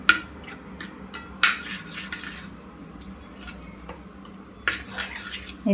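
Turmeric, coriander powder and half a spoon of garam masala stirred together with a spoon in a bowl, giving close scraping and clinking of metal against the dish in uneven bursts, with no talking.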